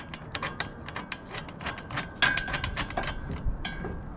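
Ratchet wrench tightening 3/8 by 1 inch bolts with split washers on a van roof ladder fitting, a quick series of sharp metallic clicks in uneven bursts, close and clear.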